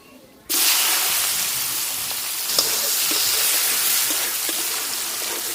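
Chopped onion hits hot oil already frying bay leaf, cardamom and cinnamon in a Bengali home kitchen, bursting into a loud, steady sizzle after a brief quiet moment and hissing on evenly with a few small crackles.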